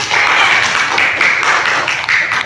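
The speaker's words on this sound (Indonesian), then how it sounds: "Bagus, tepuk tangan dulu." A classroom of students applauds a classmate's answer in a teaching session, a dense and continuous patter of hand claps, fairly loud and close throughout.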